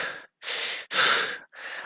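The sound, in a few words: narrator imitating a character's out-of-breath panting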